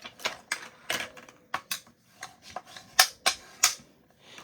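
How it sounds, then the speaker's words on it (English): A piece of crumb cake cardstock measuring 8.5 by 5.5 inches is folded in half and creased, giving a run of crisp, close paper taps and swipes in an uneven rhythm, with no talking. "We're going to go ahead and fold it in half."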